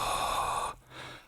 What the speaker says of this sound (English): just go for a nice, comfortable, low-pitched whisper that sounds like this.